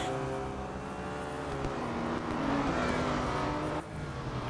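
Race cars driving in the mobile racing game Real Racing 3, including an Aston Martin Vantage GT3 and BMWs, with a sustained engine drone that swells and shifts pitch as they accelerate, briefly dipping near the end.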